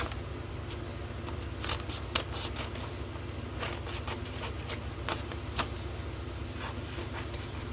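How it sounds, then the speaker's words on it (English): Scissors trim round a paper image for a junk journal page, with faint, close snips and soft paper rustling repeating over a quiet background. "I'm going to pick up my scissors and I'm just going to trim round"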